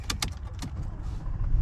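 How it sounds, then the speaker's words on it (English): A 2021 Ford F-150 with a 5-liter V8 turns over, with a few sharp clicks and a key jingle first, then a low engine rumble builds and grows louder near the end. "It's always fun when it starts up because it kind of shakes the truck like that when it starts."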